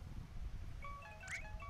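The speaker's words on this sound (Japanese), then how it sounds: "変な着信だな。" An odd, chirpy phone ringtone in To the Moon, a short burst of thin electronic tones and a quick rising blip, faint and alone over a low ambient hum.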